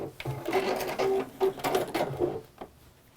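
Domestic sewing machine stitching a textile lining piece, a few quick whirring bursts of stitches close by, alone without talk.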